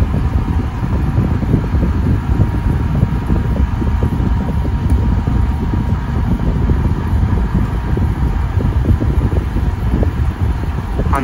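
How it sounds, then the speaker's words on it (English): An air conditioner running on low under a Sensibo smart controller, a steady close whooshing hum of fan and airflow with no pauses, alone. "for those of you who like to hear a bit of sound of an air conditioner,"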